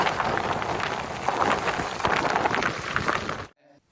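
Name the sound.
heavy rain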